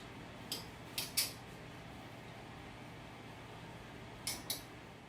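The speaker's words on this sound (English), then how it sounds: "With a fork, you're going to stick it all the way down to the bottom of the pot and you're going to move it side" A fork scraping and moving rice against the bottom of a cooking pot, producing a few faint, brief metallic scrapes in small clusters over a low steady hum.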